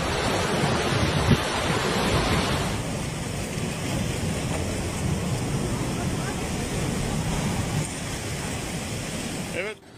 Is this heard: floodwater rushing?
yes